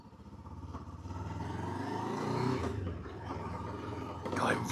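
A Rieju 500 Adventure motorcycle engine running on an open road, a steady low drone that builds gradually and surges louder near the end.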